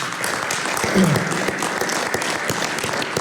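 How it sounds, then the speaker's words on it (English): An audience at a talk on fueling vehicle fleets applauds in a short, dense burst of clapping, fairly loud and even throughout. "Can we give these guys a round of applause?"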